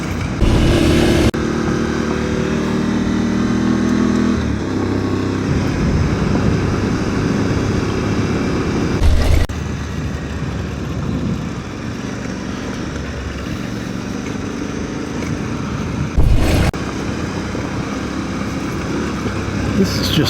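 A motorcycle rides along a dirt forest road through pine-covered mountains in Gila National Forest, its engine droning steadily and close throughout with wind rumble and a few bumps.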